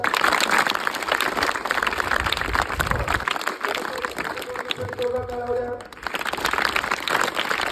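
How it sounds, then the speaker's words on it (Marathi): A large crowd at a school motivational speech claps loudly and continuously for the teachers, a dense wash of applause with a voice briefly rising over it near the end. "शिक्षकांसाठी जोरदार टाळ्या होत्या."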